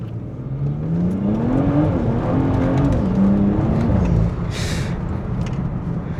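A BMW F30 sedan accelerates hard from inside the cabin during a 0-100 km/h run, its engine note climbing steadily in pitch as a loud, continuous roar, then easing near the end, with no talking.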